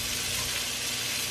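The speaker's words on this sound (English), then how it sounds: "Let's saute those. We'll mix in the tomatoes." Onions and tomatoes sizzle steadily on a hot Blackstone griddle, a close, continuous hiss of frying with no talking.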